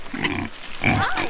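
Pigs grunting on a farm in two short close bursts separated by a brief pause, the second louder and more squealing, with no talk.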